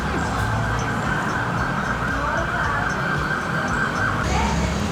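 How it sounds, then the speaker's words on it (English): An emergency vehicle siren wails on a busy Bangkok street corner, a steady, fairly loud tone held over dense traffic and street noise throughout. "Siren's going off."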